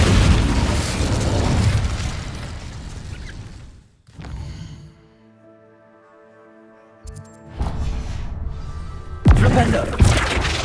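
A fire spell cast in the Hogwarts Legacy video game bursts out with a loud whooshing boom, then a quieter stretch of ringing magical tones before a second heavy blast of roaring flame.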